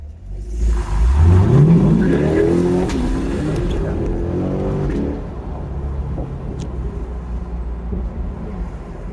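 A Ram Rebel pickup accelerates hard in a side-by-side pull against a Corvette, engine note climbing loudly and close, then settling into a steady drone as the run continues; no talking.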